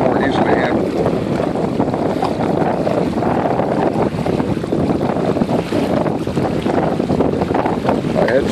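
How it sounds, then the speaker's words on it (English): A Hobie Tandem Island sailboat out on the water in strong wind, with loud, steady wind buffeting and rushing water and hull noise throughout, close and continuous. "The wind picks up too much."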